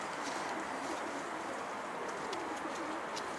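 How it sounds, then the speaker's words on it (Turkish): Karabash pigeons cooing, soft repeated coos close by over a steady background hiss, with no talking. "ünlü Karabaşçı Ali karabaşları bırakıyor bize"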